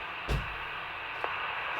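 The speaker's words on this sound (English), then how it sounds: "A bit of white noise, nothing horrible." Faint white-noise hiss on a GMRS radio transmission, steady throughout with a couple of brief clicks and bursts, no voices.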